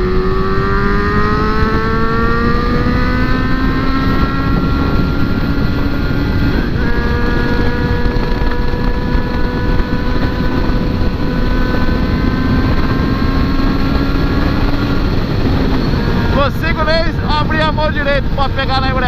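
A motorcycle engine revving and pulling through the gears out on the road, a loud sustained drone with rising pitch and wind rush throughout, easing off near the end.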